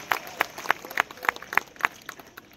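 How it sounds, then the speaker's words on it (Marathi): Applause at a public rally in Shahapur comes as a run of sharp, evenly spaced claps in a steady rhythm, moderately loud and fading slightly toward the end. "त्यांचं टाळ्या वाजून एकदा अभिनंदन करून टाका"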